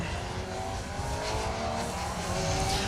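A Citroen Saxo kit car on a rally stage, its engine a loud continuous roar with steady revving and tire noise, heard alone without voices.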